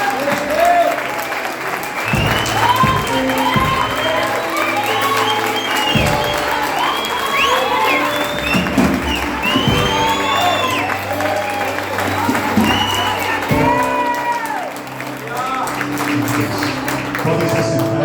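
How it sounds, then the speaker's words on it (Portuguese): A church congregation applauds steadily and loudly at an evening communion service, with dense continuous clapping, some cheering and voices mixed in, sustained throughout. "desse uma salva de palmas a Jesus pela vida desses irmãos"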